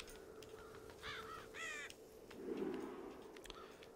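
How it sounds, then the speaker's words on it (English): Crows cawing in the video game Child of Light, a few harsh drawn-out caws in quick bursts over a low steady ambient hum, moderately close with no talking. "And all we see is a bunch of crows."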